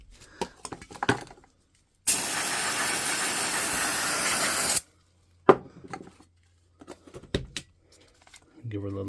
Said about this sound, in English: we'll give the drum a wee spray there